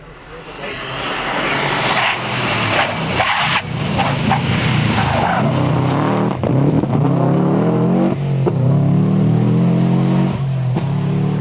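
Subaru Group N rally cars race on tarmac at the 1996 Ulster Rally, engines roaring loud and close with rising and falling revs and gear changes, under a commentator's voice.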